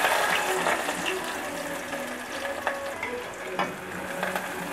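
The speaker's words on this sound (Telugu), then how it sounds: "ఆయిల్ వేడెక్కింది, కొత్తిమీర కాడలను, ఆనియన్స్ ముక్కలు ఇలా కట్ చేసుకునేవి వేసుకుందాం." Coriander stems and chopped onion pieces frying in hot oil for a prawn and gongura dish, a steady close sizzle with faint crackles and stirring throughout.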